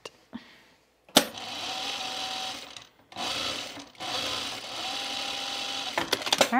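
Sewing machine stitching a repair on pajama bottoms, running in steady continuous bursts separated by brief stops, close and fairly quiet, ending with a few clicks.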